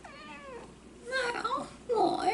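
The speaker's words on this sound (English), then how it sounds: "If you hear her meow, she doesn't like getting paid no attention to." A pet cat, a finicky female, meows twice in close succession, loud and near, with the second cry longer and more drawn out; a person talks faintly beneath the first.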